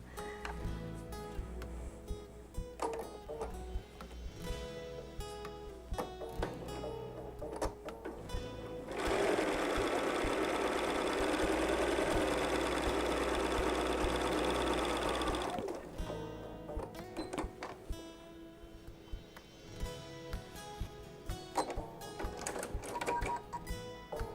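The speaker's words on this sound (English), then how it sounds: "I'm going to sew directly on this line" A sewing machine stitches quilt fabric along a marked line, a loud continuous mechanical whir lasting several seconds, set between stretches of quieter clicks and handling noises, with no talk.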